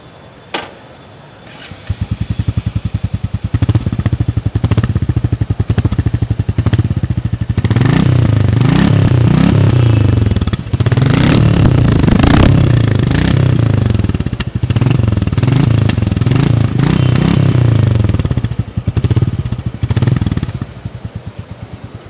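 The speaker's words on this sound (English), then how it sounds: "Engine will be fired up now, and my colleague is going to make you listen to the exhaust." A Royal Enfield Bullet 350 motorcycle engine starts up close and idles with a thumping beat, then revs repeatedly in rising, throaty bursts through the exhaust before settling back to idle.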